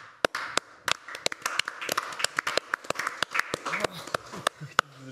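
Applause at the start of a song, played during a live song-guessing game: a run of sharp, uneven claps with a scattered rhythm, loud and close over a faint background.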